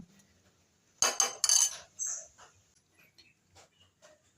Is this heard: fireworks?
no